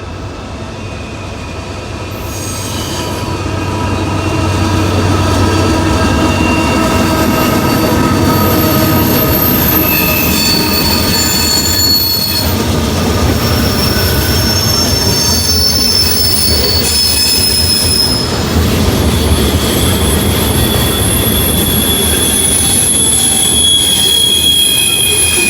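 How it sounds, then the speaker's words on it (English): A loaded coal freight train rolls past close by, with a loud, steady rumble of rail cars under a constant high-pitched squeal and screech of wheels on the rails. "we're finally getting us a train here."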